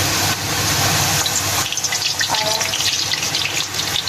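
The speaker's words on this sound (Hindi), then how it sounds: "अब इसको हम ऑयल में डालेंगे, फ्राई करेंगे।" Puri dropped into hot oil and frying, a loud dense sizzle and hiss right up close that shifts to a bubbling crackle partway through.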